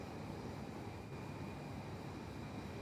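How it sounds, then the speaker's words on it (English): An Alliance Airlines Fokker jet arriving at Perth Airport, heard as a steady broadband engine roar with a faint tonal whine, continuous and moderately distant. "Probably may hold now while this Alliance Fokker comes in."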